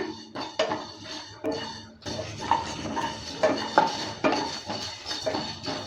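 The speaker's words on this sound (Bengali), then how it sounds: "লো মিডিয়াম আছে ভেজে নিচ্ছি" Cumin and fennel seeds dry-roasting in a pan over low-medium heat for amra pickle spice, stirred with a utensil that scrapes and clinks against the metal in repeated close strokes.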